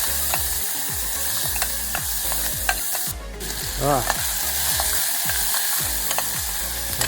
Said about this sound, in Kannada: ಈರುಳ್ಳಿನ ಸ್ವಲ್ಪ ಫ್ರೈ ಮಾಡಿ